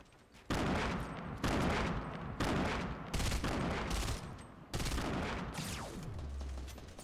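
Video game gunfire bursts out in repeated loud volleys, each lasting about a second with brief gaps between them, rapid and close, with no talk over it.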